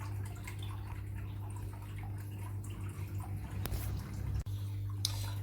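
An Eheim Quick Vac Pro automatic gravel cleaner runs without its hose in aquarium water: a steady motorized water churn and low hum, close and continuous, with a brief dip near the end.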